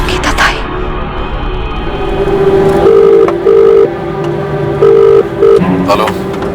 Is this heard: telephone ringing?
yes